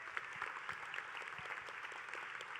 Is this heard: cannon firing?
no